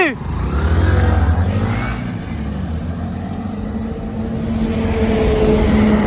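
Two commuter motorcycles, a Bajaj Platina 110 and a Hero HF Deluxe, launch in a drag race, their engines droning loudly and steadily as they accelerate close by, with voices partly over the engine noise.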